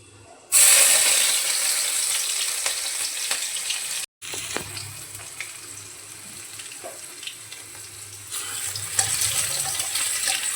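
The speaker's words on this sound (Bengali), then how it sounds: "এর মধ্যে দিয়ে দেব রসুন থেতোটা" Crushed garlic frying in hot oil with panch phoron and dried chilli gives a steady, fairly loud sizzle. It starts abruptly, breaks briefly, then crackles on without any talk.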